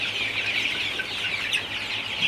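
Sonali super hybrid chickens in a poultry house during sweltering heat, a steady chorus of soft clucking that carries on throughout without a break.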